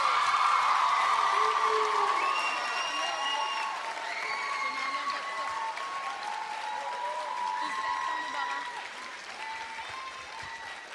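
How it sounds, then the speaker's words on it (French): An audience applauds warmly and continuously, with cheers and whoops rising over the clapping and voices mixed into the crowd noise. "j'aimerais ça qu'on les applaudisse quand je vais les nommer"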